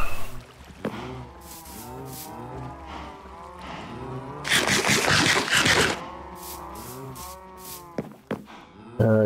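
A Minecraft cow lets out a run of drawn-out, wavering moos, loud and close, with a noisy scraping burst partway through and a few short moos near the end.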